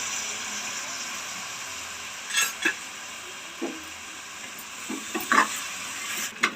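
Tomatoes frying in oil with masala, stirred for a potato cream gravy: a steady low sizzle and hiss runs throughout, with a few soft scraping stirs and light clinks of the spoon against the pan.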